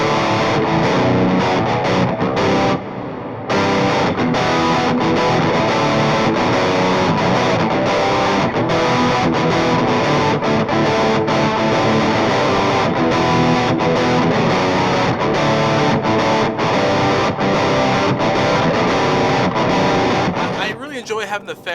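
Loud, dense distorted electric guitar through a Toneforge Misha Mansoor amp plugin, playing steadily for about twenty seconds with one brief drop near the start and a tail at the end, no talking.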